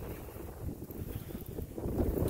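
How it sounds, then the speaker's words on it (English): Wind buffets the microphone in low, uneven rushes that swell and build toward the end, with no one speaking, in Frostproof, Florida. "The wind's kind of a steady wind, and then we'll get big gusts"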